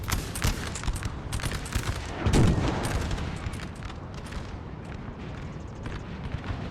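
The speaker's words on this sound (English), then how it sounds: "they kind of shoot in the backs of their own Grenadiers still" Musket volleys in a Napoleon Total War battle crackle in dense, overlapping bursts at mid distance, with a heavier boom near the middle and a continuous rattle of scattered shots throughout.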